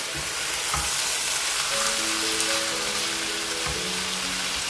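Minced meat (keema) frying in a pan, with a steady loud sizzle and occasional stirring scrapes, close up and without talk.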